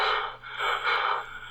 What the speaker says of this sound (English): Oh, he's breathing heavy.